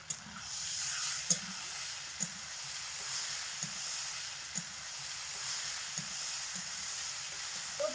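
Malabar spinach seeds with garlic and chilli fry in a covered pan over medium heat, giving a steady soft hiss with faint periodic clicks of the lid or stirring, no voices.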